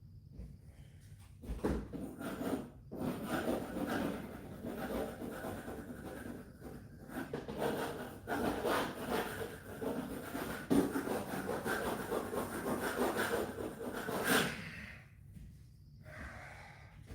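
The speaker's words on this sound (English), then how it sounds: "I need to get the scraper." Paint being scraped with a scraper during a night work session, a steady rasping scrape repeated over and over at close range, with brief pauses and no speech.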